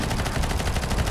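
Rapid automatic gunfire from the video game CS:GO, a dense steady rattle of shots packed tightly across the whole moment, loud and close with no talking over it.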